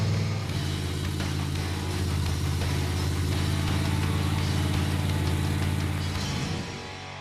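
A 1960s Chevrolet Impala nicknamed Crusher, converted to electronic fuel injection, accelerates steadily under load, its engine note rumbling loud and close with rising harmonics that fade slightly at the end; no voices.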